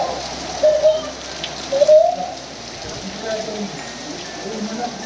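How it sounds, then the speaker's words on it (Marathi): Heavy rain falls outside a temple at Mahabaleshwar as a steady hiss of drops, with a few bird chirps and faint voices mixed in. "पण पाऊस भरपूर जोरात आहे."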